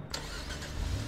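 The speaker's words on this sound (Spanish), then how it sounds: "Mira, estos dos se piran en coche." A car engine turns over and revs away in the Friday the 13th video game. The mid-pitched motor hum is steady and fairly faint and continues without pause.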